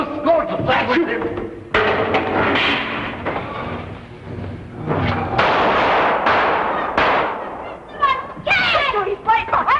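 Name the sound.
gunshots fired at a pursuing monster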